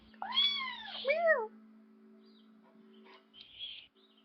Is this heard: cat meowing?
yes